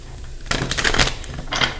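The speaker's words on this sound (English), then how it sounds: "I already shuffled these cards, but I'll shuffle them a little bit more." A deck of tarot cards is shuffled by hand in a few quick riffling bursts, close and crisp, with brief pauses between them.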